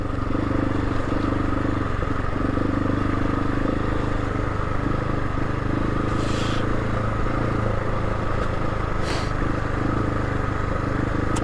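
A Husqvarna 701 motorcycle ridden off road, its engine droning in a loud continuous rumble alongside steady wind roar, with two brief hissing bursts partway through.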